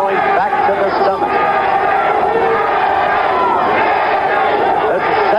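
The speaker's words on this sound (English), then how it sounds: "There's a segment of the crowd here that keeps chanting, Jimmy Young, Jimmy Young." A packed arena crowd at a 1977 heavyweight boxing match chants and roars, a dense continuous din of massed voices heard from within the hall.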